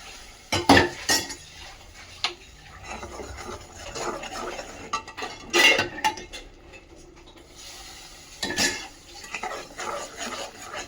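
Mysore pak mixture being stirred in a pan as hot ghee is added bit by bit, with irregular metal scraping and clinking strokes of a spoon against the pan, fairly quiet and close, with no talking.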